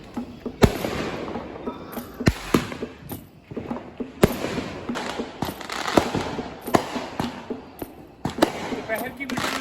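Independence Day fireworks bursting in a rapid string of loud, sharp bangs over a crackling, rumbling backdrop, with several distinct blasts standing out amid continuous popping.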